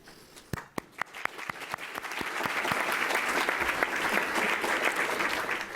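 Applause starts with a few scattered claps and swells into steady, dense clapping from a seated audience at a higher education panel event, welcoming a university president.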